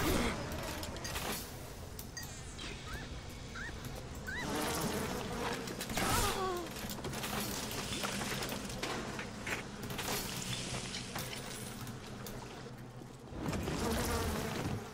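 Buzzing bees swarm in BioShock, a dense insect drone that rises and falls across the scene, mixed with game effects and brief louder bursts near the start and end.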